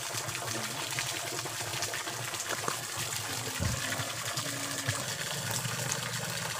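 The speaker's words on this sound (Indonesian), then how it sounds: "Ada curugan airnya" A small waterfall pours water in a steady, soft, broadband rush beside a shrimp-fishing spot, continuous and fairly distant, with a few faint knocks and no talk.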